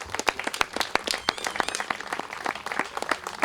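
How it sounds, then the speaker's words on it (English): A crowd at a groundbreaking ceremony for the Orem Family Fitness Center applauds with scattered, crisp hand claps, moderately distant and fairly quiet, continuing steadily throughout. "We give a round of applause."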